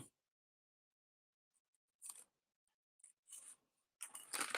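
Pink butcher paper has its two small tabs snipped off with scissors: a few short, crisp cuts and rustles after a quiet start, growing louder and closer toward the end, with no talking.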